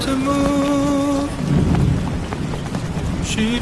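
Steady rain layered over a song, a dense hiss of falling drops running throughout while sustained melodic tones and sung notes sit on top.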